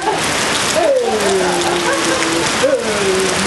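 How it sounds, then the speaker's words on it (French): Steady, dense rain hisses throughout at close range, with a couple of faint tones gliding downward in the background. "Ben voilà, une grande journée de pluie"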